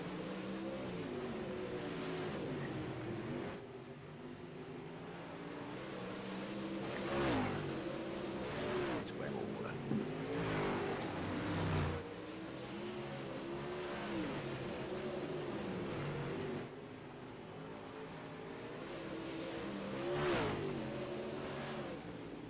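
UMP Modified race cars roar around an oval at Federated Auto Parts Raceway in iRacing, a pack of engines droning steadily with repeated rising revs as cars pass close by, no talk over it.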